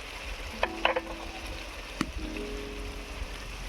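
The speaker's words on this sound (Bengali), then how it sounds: "সেটা কাঁচা লঙ্কা এবারে দিয়ে দিচ্ছি মটরশুঁটি" Green peas and green chilli fry in a spiced masala for a fish curry, a moderate, steady sizzle with a few sharp metallic clinks and scrapes as the pan is stirred.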